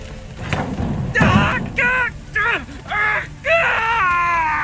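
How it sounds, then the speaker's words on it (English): Anguished screams and wailing cries ring out in The Witcher 3: Hearts of Stone, coming in several loud, drawn-out bursts separated by short gaps. "My ears wither from the screams."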